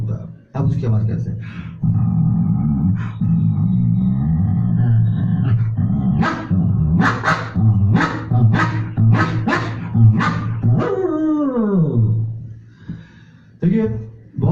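A man imitates an old dog with his voice: a low, drawn-out growling bark that gives way to a run of hoarse, rough barks and then a sagging groan, loud and close.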